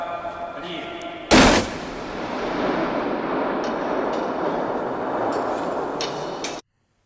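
A pyrotechnic device fires during an ExoMars lander test, one sharp loud blast followed by a long sustained roar of broadband noise that holds steady for about five seconds before cutting off abruptly.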